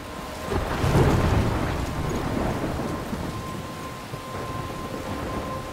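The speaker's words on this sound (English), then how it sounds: "I'm trapped in a storm?" Storm scene in the video game Life Is Strange: heavy rain hisses steadily while a deep roll of thunder swells early and fades, close and enveloping, with no voices.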